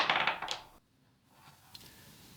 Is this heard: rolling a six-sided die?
yes